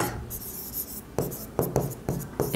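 Writing by hand during an HSC accounting lecture: quick scratchy strokes close by, coming in short rhythmic bursts with brief gaps and no talking.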